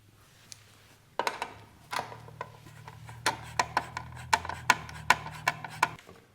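A screwdriver working Phillips screws out of a Talaria Sting R electric motorbike, giving a close, dry scraping and a regular series of short clicking ticks that speed up toward the end, with no talk.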